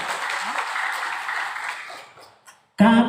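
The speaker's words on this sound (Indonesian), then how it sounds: "tepuk tangan dulu" Audience applause at an LSM Lira national working meeting and anniversary event in a hotel hall, a broad wash of clapping that fades out before a voice begins speaking.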